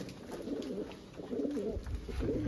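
Pigeons kept in a breeding loft coo in a steady, overlapping murmur, the low rolling calls fairly close and continuous, swelling louder toward the end with some low rustling underneath.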